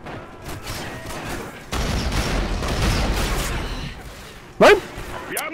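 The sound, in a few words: revolver gunfire in a video game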